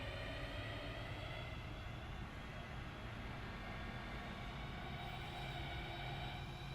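Class 323 electric train running in a train simulator game, a steady broadband rumble of motors and wheels on rails that holds constant and fairly loud throughout, with no voices.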